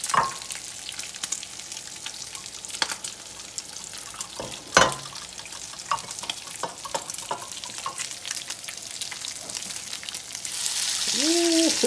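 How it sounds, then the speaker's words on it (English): Bacon sizzles steadily in a frying pan, a dense close crackle with scattered sharp pops and stirring clicks, brightening toward the end. "Bacon is sizzling."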